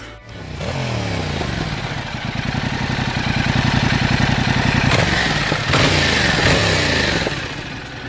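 Yamaha MT-07 (FZ-07) CP2 parallel twin motorcycle engine running loud and close, a throbbing, steady mechanical drone that rises with revs and then eases off, heard alone without voices.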